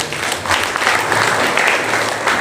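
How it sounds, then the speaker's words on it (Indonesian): Audience applause at a school classroom event for a student named Alfian after he receives a T-shirt prize, steady dense clapping for about two seconds. "Tepuk tangan untuk Mas Alfian"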